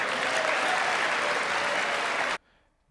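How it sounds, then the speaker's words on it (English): A large audience stands and claps after a line in a State of the Union address, dense and steady applause that cuts off abruptly near the end into near silence. "him just saying some empty platitude and everybody standing up and clapping"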